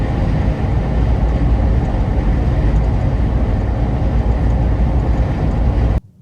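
Steady roar of Yokohama Geolander G003 mud-terrain tires and wind on the highway at about 70 to 75 mph, a dense, loud, unbroken rumble heard from inside the vehicle before it cuts off abruptly at the end.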